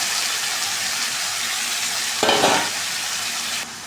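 Snake gourd pieces dropped into a wok of hot oil with onion and green chili, a continuous loud sizzle that surges briefly midway as the vegetables hit the oil, then settles, with no voices.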